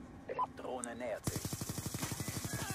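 An enemy weapon in Black Ops 2 opens up after a moment of muffled game sounds: a rapid, evenly spaced burst of automatic gunfire, about twenty quick shots in a steady rhythm.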